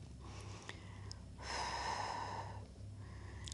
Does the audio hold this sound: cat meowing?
no